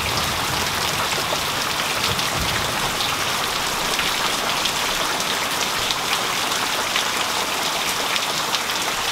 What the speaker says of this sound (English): It's pouring again.